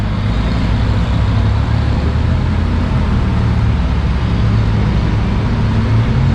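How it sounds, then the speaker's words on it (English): A Lamborghini Huracan Spider, roof up, drives on India's only Formula One track, a loud, close and continuous engine roar with deep rumble and no pauses. "And the loudest car of them all, the Huracan Spider, once again with the roof up."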